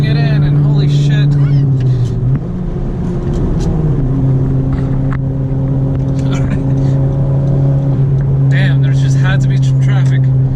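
Honda Civic FK7 sport hatchback fitted with a 27WON W2 turbo accelerating hard, a loud steady engine drone rising in pitch, with brief voices and interior noise over it.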